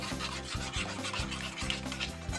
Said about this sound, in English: We're gonna mix this all up.